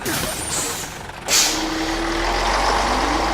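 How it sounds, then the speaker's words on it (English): An animated bus pulls away, a sharp hiss of air brakes releasing followed by a rising engine whine as it moves off, fairly close and clear. "Hold that bus!"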